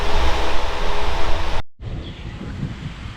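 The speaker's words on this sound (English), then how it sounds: "because it's windy out here and I want no more of that popping noise" Wind buffeting a camera's built-in microphone outdoors during work on a 2006 Pontiac Torrent 3.4L engine, a steady loud rumbling roar that cuts out briefly, then returns as lighter gusty noise.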